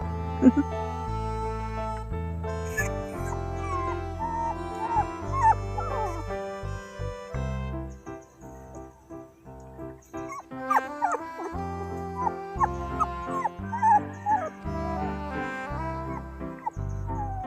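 Young puppies in a village haystack whimper and yelp in high, wavering cries, close and repeated throughout, while people talk nearby.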